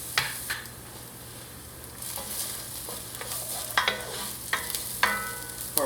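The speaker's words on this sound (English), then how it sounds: "I'll add my garlic to it now" Holy trinity vegetables and garlic fry in a pot for cassoulet, giving a quiet, steady sizzle broken by several sharp clinks and scrapes of a utensil stirring against the pot, heard close and alone.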